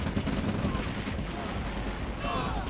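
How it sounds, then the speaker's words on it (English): Artillery fire in the OpenRA Red Alert strategy game, a dense, continuous rumble of booming shots and explosions that fills the whole stretch at steady loudness, with a commentator's voice partly mixed in. "Some good hits from the artillery."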